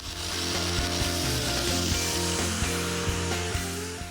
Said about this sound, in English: the next thing we're going to do is to bevel this axle tube